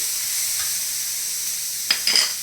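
Ginger fries in a pan for a paneer gravy with a soft, even sizzle, and a few brief stirring scrapes come near the end.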